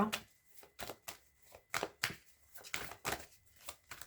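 Tarot cards being cut and shuffled, a run of crisp papery riffles and slaps in irregular bursts, close and fairly quiet, with a low voice murmuring faintly under them.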